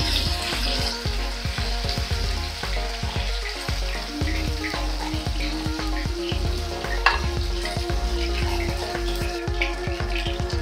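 Queenfish pieces half-fried in a pan for a fish curry, giving a steady, loud sizzle with crackling pops and occasional stirring scrapes throughout, no voices.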